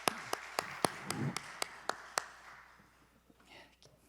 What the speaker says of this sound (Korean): 하나님께 영광 박수 올려드립니다.